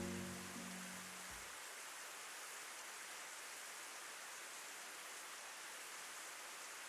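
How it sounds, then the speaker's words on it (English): Steady, dense rain hiss from a visual novel scene runs continuously at even volume, with a brief low musical tone fading out in the first second. "it rained the next day. The ever-present miserable rain"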